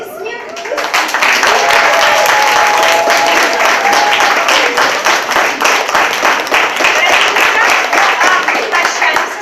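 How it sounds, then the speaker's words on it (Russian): Sustained audience applause fills an evening concert hall after a farewell presentation, dense steady clapping starting abruptly and holding strong to the end, with a faint voice briefly audible beneath. "Аплодисменты."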